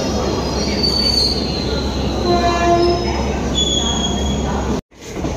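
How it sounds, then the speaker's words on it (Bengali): A train pulls out of Sealdah station with loud, steady rumbling of wheels on rails and high squealing tones from the wheels, heard from inside the carriage, cut by a brief dropout near the end. "ট্রেন ছেড়ে দিয়েছে শিয়ালদা থেকে।"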